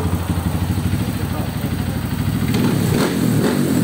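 A Honda CRF 150 fitted with a 212cc bore-up kit runs close by with a steady, pulsing, lumpy idle, then briefly blips the throttle near the end, with a voice faintly present.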